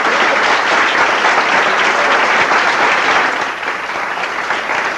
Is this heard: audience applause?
yes